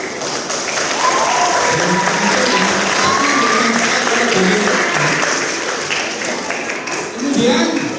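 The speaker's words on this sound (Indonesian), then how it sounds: "tepuk tangan semuanya ya." A large group of schoolchildren clap loudly and continuously at a Quran recitation and fast-breaking gathering, with voices mixed into the steady applause.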